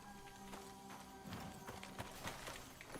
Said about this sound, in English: Horse, you here.